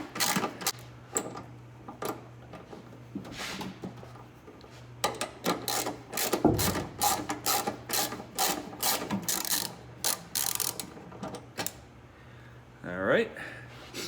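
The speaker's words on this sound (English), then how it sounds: "Then we'll take out the very back fender bolt. Using an 8 millimeter." Close ratchet clicks and tool taps while an 8 mm fender bolt is backed out on a Fox Body Mustang, coming in irregular bursts of sharp mechanical clatter with a steady low hum beneath.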